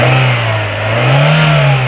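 A Mazda 323 with a 1.6-litre engine revs steadily, a loud, close engine drone that dips slightly and then rises again, smooth and continuous without any rattles.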